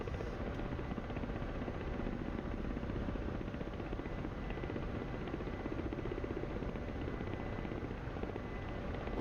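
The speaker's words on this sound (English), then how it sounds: "So that wasn't a bad flight, even in these helicopters." Ka-50 coaxial-rotor attack helicopter in the DCS flight simulator, a steady dense rotor and turbine drone that stays loud and unbroken throughout with no talking.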